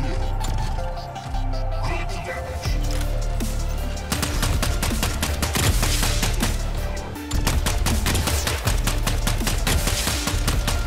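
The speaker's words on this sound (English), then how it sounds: "What was that shot?" Weapon fire from a mech in the video game Mech Arena, a dense stream of sharp, rapid shots rattling almost continuously over a steady low in-game rumble, with two brief pauses in the barrage.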